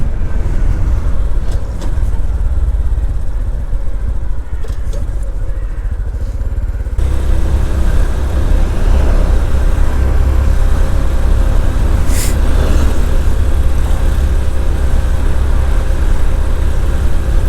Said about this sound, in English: And here's the traffic.